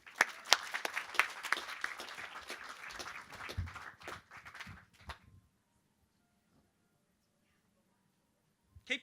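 A lecture audience at an evening science talk claps in a lively burst of many hands that fades away after about five seconds, followed by near silence and a faint thump.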